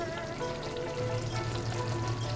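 Eggplant frying in hot oil for a vegetarian begun posto dish, a steady, close, soft sizzle and crackle that runs without a break.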